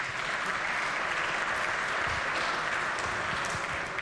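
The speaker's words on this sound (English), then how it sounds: "please give them a round of applause" Members of the West Virginia Legislature applaud student pages in the chamber, a dense, even burst of many hands clapping that holds steady for a few seconds.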